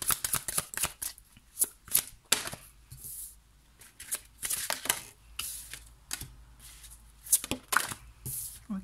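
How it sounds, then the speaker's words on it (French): Tarot cards shuffled and drawn during a reading, a long run of crisp riffling and snapping card sounds with soft taps and slides, close and quiet with no talking. "moi je vais prendre 3 cartes pour chaque pierre"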